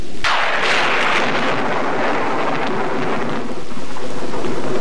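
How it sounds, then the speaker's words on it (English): Rolling thunder with steady heavy rain from a 1962-era advancing cold front, a sudden loud crack opening into a long, dense rumble over continuous downpour, no voices. "the advancing cold front is bringing a typical pattern of thunder showers, followed by clear and cooler skies"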